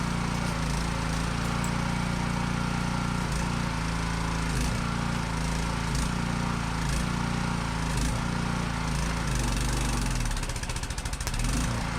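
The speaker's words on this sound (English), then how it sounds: "You can hear that our generator is very underpowered for the amount of wattage that arc welding requires." Arc welding run off an underpowered generator at an old off-grid farm, with a steady loud engine drone that labours and bogs under the welding load, pulsing unevenly throughout without any speech.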